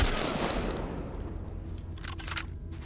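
Rapid gunfire from The Last of Us video game forms a dense, continuous burst of overlapping shots, loud at first and easing slightly into a steady rattling wash.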